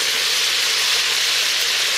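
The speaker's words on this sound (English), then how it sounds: "After 6-7 minutes, you're going to get a good sear on your pork pieces." Pork pieces sear in an Instant Pot, giving a steady, loud, close hiss and crackle of frying that holds evenly throughout with no talking.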